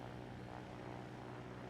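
A player-built helicopter with cyclic and collective controls flies in the Trailmakers video game, giving a steady low rotor and engine drone that stays even and continuous throughout, fairly quiet with no talk.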